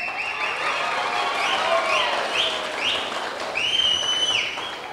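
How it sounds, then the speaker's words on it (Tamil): An audience applauds at a closing ceremony at Amsam Mahal in Chengalpattu, with a sustained wash of clapping at moderate distance and bright, chirping tones rising above it. "உங்களை சிறப்பிக்க எங்கள் கைத்தட்டலால் சிறப்பிக்க இதுதான் சிறந்த இடம்"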